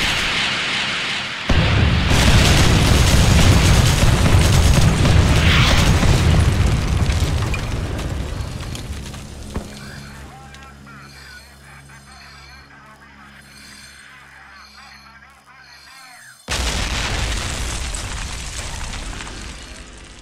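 An MLRS rocket artillery strike in Generals Zero Hour: a series of loud booming explosions that rumble and fade into quieter game sounds before another burst near the end, with voices present.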